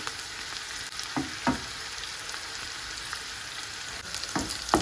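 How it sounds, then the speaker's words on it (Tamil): Onion and curry leaves sauté in a pan with a continuous soft sizzle, broken by a few clicks of a spatula stirring, no talking. "வெங்காயம் கருவேப்பிலையும் கொஞ்சம் வதங்கி வரட்டும்"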